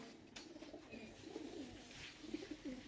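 Caged pigeons at a small pigeon race gathering coo softly, with faint, low, rolling calls repeating several times against a quiet background.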